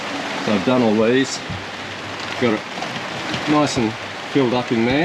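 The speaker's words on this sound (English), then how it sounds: "Excuse the rain on the roof." Rain drumming steadily on the roof of a VW Crafter van while its walls are being insulated, a constant hiss running beneath someone talking throughout.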